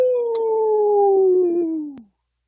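A person imitates a hound dog howl with one long, loud, sustained vocal howl that slowly falls in pitch, then cuts off abruptly.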